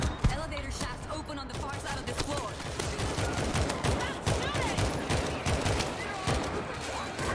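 Dense gunfire from a World War Z zombie shooter game, rapid overlapping shots and bursts running steadily throughout, loud and busy with other game noise beneath.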